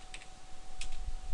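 Typing a command on a computer keyboard, with a few quiet key clicks in two short bursts over a low background hum.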